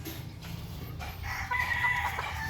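A rooster crows once, fairly close and clear, the call rising and holding briefly over low background noise on a farm.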